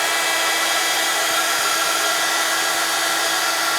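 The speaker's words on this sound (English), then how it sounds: "So let's grab the heat tool" A heat tool for embossing papercraft cards blows with a steady, loud, unbroken hiss of broadband air noise that runs alone from start to finish.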